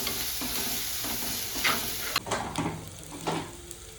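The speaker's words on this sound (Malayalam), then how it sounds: "നമുക്ക് ഇതിലേക്ക് കുറച്ച് കറിവേപ്പിലയും 3 പച്ചമുളക് നടുവ് കീറിയതും കൂടി ഇട്ട് കൊടുക്കാം." Curry leaves and slit green chillies fry in a pan for a Kerala-style curry, with a steady hiss of sizzling oil and occasional scraping stirs and light clicks of the utensil.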